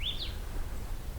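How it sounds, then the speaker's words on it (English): A Pine Siskin gives a single thin, rising-and-falling zeet call at the start, clear but brief over a steady low background rumble near a meadow pond. "A little zeet from Pine Siskin, a song."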